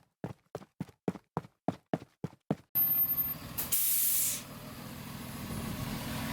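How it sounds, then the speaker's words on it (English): A bus arrives with a long pneumatic hiss of its air brakes, loud and close, following a quick run of nine sharp rhythmic taps or footsteps. "Oh, there's the bus."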